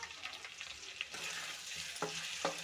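A tomato frying in a pan with turmeric and chili powder for a rohu fish curry, soft continuous sizzling with stirring scrapes and a couple of sharper clinks of a utensil against the pan.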